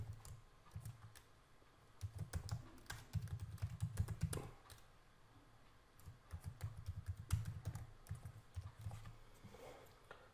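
Keyboard typing at a computer while setting up user account credentials for an enterprise application, a steady run of close, light key clicks in uneven bursts with brief pauses.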